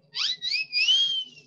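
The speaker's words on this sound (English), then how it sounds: "Love that whistle." A single whistle blown during an online chemistry lecture, a clear near tone that rises and wavers across two short bursts and then one longer sustained note, heard alone.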